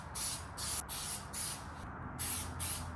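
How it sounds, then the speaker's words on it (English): Plasti Dip aerosol sprayed onto car emblems in a light first coat: five short, close hissing bursts, each about a third of a second, separated by brief pauses, with no talking. "Just a light first coat."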